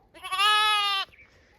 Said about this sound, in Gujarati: એક ન્યૂ એડ અમારું ઘેટું